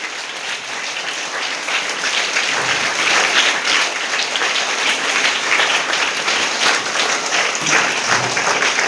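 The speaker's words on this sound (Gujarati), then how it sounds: "તાળીઓના ગડગડાટથી સ્વાગતને વધાવીએ।" Sustained applause from an audience at a primary school admission welcome ceremony in a Gujarat village, a steady dense wash of clapping lasting throughout, fairly loud and close, with no speech over it.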